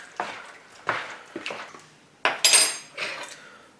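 A spoon scrapes and knocks against a bowl while canned-peach cobbler filling is stirred, giving a series of separate clinks and scrapes, close and clear, with short pauses between strokes.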